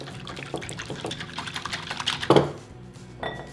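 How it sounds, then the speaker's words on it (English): An egg is whisked in a bowl for lemon and blueberry scones, a rapid run of light clicking taps against the bowl, close and steady, with one louder knock near the end. "let's go ahead and whisk this up"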